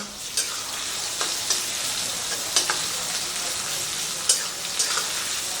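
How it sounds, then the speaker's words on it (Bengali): Onion fries gently with ginger and garlic in a pan, making a continuous soft sizzle broken by a few light stirring clicks, with no talking. "পেঁয়াজটা দেখুন হালকা করে ভেজে নিয়েছি"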